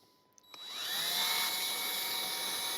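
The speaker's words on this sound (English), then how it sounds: "just take yourself a small drill bit and just drill a small hole" A small drill bit bores a small hole in a Ford Ranger NextGen Wildtrak. After a couple of faint clicks, a steady, close whirring drill spins up and holds a constant high-pitched whine.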